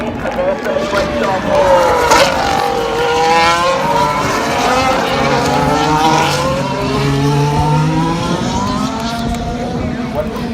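A Formula 1 race car passes at the Texas race, its loud engine note sweeping in steady, sustained, pitch-shifting bands over roughly ten seconds of continuous crowd and track noise.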